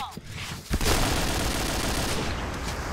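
Gunfire during a competitive shooting match, a dense continuous burst of rapid shots that is loud and close and fills the whole clip after a brief quieter opening.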